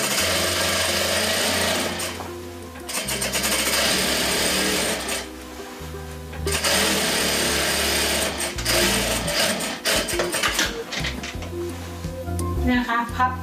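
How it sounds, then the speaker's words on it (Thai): A sewing machine runs in close, loud bursts as it stitches the waistband of baby pants, its rapid motor-driven chatter stopping and restarting several times, with brief pauses between runs. "เย็บไปเลยค่ะเย็บรอบเอวเลยนะคะ"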